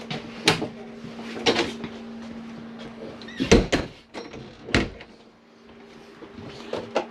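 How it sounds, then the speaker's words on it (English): A camper shower door on a Pioneer 27TB travel trailer snaps and clacks open, giving several sharp knocks and rattles spread over a few seconds against a faint steady hum, with no talking. "make sure that your shower door snap back open"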